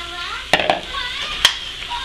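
Cooked beef drops back into a hot pan of broccoli, giving a steady sizzle close up, broken by a few sharp scraping knocks as the food is pushed around.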